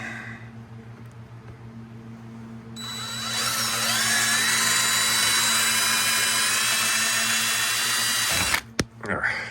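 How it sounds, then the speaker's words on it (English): A power drill whirs steadily at close range, grinding through a plastic cap over a screw for several seconds before stopping, followed by a few clicks and handling noises. "So I'm gonna drill that out and try to get it to pop out."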